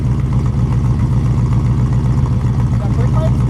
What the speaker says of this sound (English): Listen to the exhaust on this one.